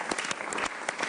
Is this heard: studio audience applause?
yes